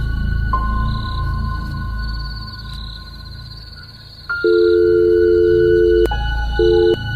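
A telephone call being placed: a steady dial tone, then a short run of dialing tones, followed by loud repeated ringback tones, heard alone without talk.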